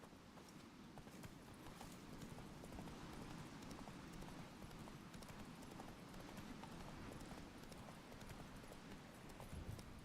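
Roach, the horse in The Witcher 3 video game, gallops at a steady pace, with hoofbeats thudding continuously under a dense, rushing background wash. The sound is fairly faint and no one speaks.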